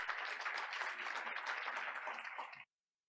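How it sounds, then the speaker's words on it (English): An audience at a school board of education meeting gives a faint but steady round of clapping for a school representative, lasting over two seconds before stopping abruptly into silence. "Let's give her another round of applause."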